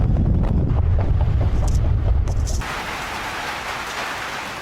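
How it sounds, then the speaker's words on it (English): Rain falling outdoors in wind in Orania, South Africa, with heavy low rumbling wind buffeting the microphone for the first half, then easing into a steadier, hissing downpour. "it is freaking raining here in Orania"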